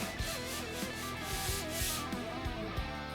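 Hand sanding an electric guitar fretboard with a split body-shop sanding block, light pressure, steady back-and-forth rubbing strokes with soft rhythmic scrapes, close and alone.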